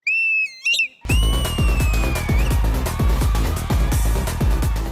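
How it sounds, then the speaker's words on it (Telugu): A girl's sharp, shrill single-finger whistle sounds in short bursts on a TV talent show stage, then a long piercing whistle rides over rhythmic background music with a thumping beat. "సింగిల్ ఫింగర్ తో విజిలేస్తారు"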